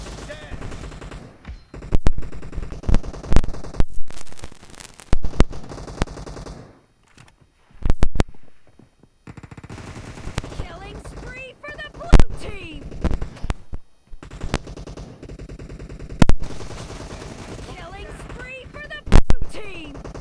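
Rapid bursts of automatic gunfire in the mobile battle game PUBG Mobile, sharp cracks in uneven clusters with short pauses between, mixed with game sound effects and occasional talk.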